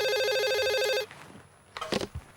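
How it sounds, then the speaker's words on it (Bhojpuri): An electronic telephone ringtone trills loudly in a rapid repeating pattern for about a second, then stops, followed by a few soft handling clicks and bumps. "काली बेटी तनी देखा तो केकर फोन है।"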